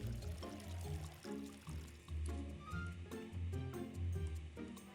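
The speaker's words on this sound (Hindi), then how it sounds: "अभी इसको वाटरिंग कैन को फिल कर लेते हैं।" Water pouring into a watering can, a continuous gurgling fill with a rhythmic burbling pulse, close and fairly quiet, with no speech.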